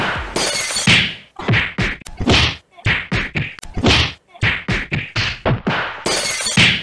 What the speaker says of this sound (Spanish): Dándonos a los puñetazos.